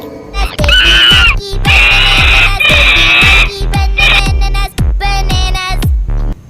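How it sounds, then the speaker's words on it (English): A monkey screeches in a run of loud, shrill, close calls, several sustained cries broken by short gaps and accompanied by steady rhythmic thumps underneath. "M for monkey."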